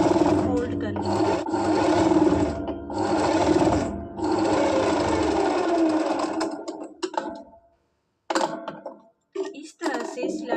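A sewing machine stitches a kameez seam, its close, steady whirring motor running in long bursts, pausing briefly, then ending in short stop-and-start runs.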